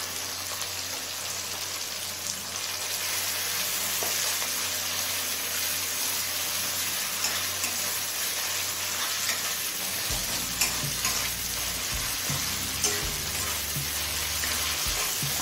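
Ginger paste and soft tomato frying over medium flame in a pan make a loud, continuous crackling sizzle, close and steady, with occasional stirring scrapes and no voices.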